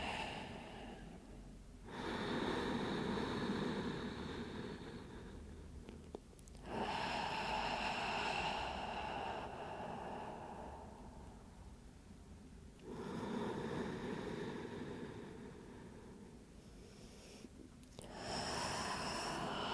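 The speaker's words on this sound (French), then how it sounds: "on souffle par la bouche avec le mâchoire détendu, la bouche légèrement ouverte" Slow breaths during a pilates breathing exercise, exhaled through a slightly open mouth with a relaxed jaw, come as four long, airy, close-up rushes separated by quiet pauses.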